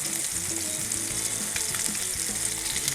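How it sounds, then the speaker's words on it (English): Thin blackened fish searing in a hot pan, a steady, dense sizzle and crackle that holds close and even throughout, with no talking. "You want to just cook it just long enough to where you get the good sear."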